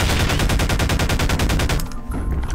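Rapid automatic gunfire from a Siren Head monster-battle video game, a dense, loud burst of repeated shots at a steady fast rhythm that stops abruptly near the end.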